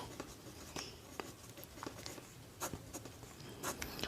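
Pen or chalk writing during a Hindi-language math lesson, soft scratchy strokes and taps repeating irregularly, close but faint over a low background hiss.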